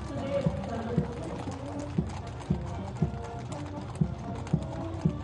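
Hooves of 61 Cavalry regiment horses clip-clop in a steady, evenly spaced rhythm on a parade route, each strike sharp and distinct over a dense bed of background noise.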